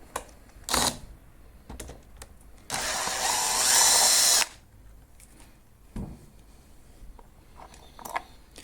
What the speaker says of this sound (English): take it the rest of the way out with the screw machine if you want